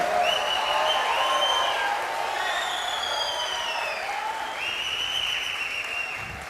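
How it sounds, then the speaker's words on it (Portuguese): A church congregation applauds with sustained clapping, and raised voices and cheers ring over it. The sound fades slightly toward the end. "Será que você pode aplaudir a Jesus pela vida do seu pastor?"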